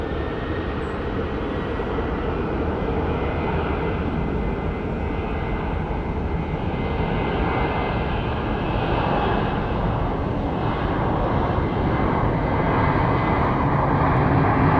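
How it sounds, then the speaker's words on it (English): Frontier Airbus A320neo jet taking off from Phoenix Sky Harbor International Airport, a steady, loud broadband engine roar that holds and builds slightly over the whole stretch with no voices. "our next plane that we will film taking off is the Frontier 754. It's an A320 Neo that's going to be headed to Denver."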